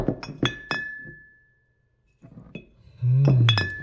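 Glasses clink in a few bright, ringing taps, one tone lingering, then after a short silence more clinks and a louder clatter as a drink is poured and offered.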